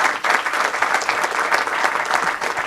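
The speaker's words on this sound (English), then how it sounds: "Let's give her one more round of applause." Loud, dense audience applause rings through a county council chamber during a proclamation ceremony, steady and close throughout.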